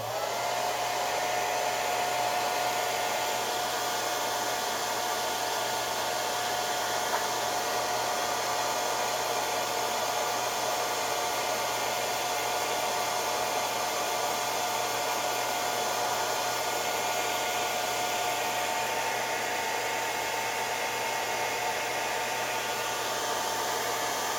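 A hair dryer blows steadily and loudly for the whole stretch, drying fresh paint on a customized Universal Studios Uni-minis collectible figure, with no talking over the constant airy roar.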